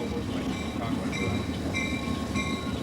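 A train rolls along its rails through a big-city area, a steady, loud wheel-and-rail rumble with faint metallic squeals and clatter, heard up close and continuous without speech.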